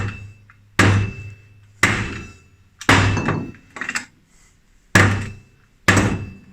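A wrench struck with a hammer to loosen a bolt on a clutch assembly, six sharp metallic knocks at irregular intervals, each ringing briefly and then decaying, close and loud.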